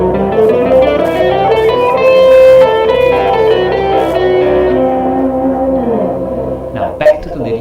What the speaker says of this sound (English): So C Lydian looks and sounds like this.